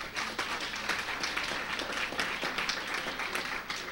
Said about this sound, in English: the lady, Marcia Griffiths, another round of applause for her.